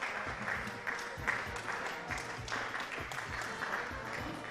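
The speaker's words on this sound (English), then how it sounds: "A round of applause, a standing ovation from the Prefects Council." Applause, a standing ovation from a school Prefects Council at a Royal College versus Trinity College first XI one-day cricket match, a steady dense clatter of many hands sustained throughout with a faint voice mixed in.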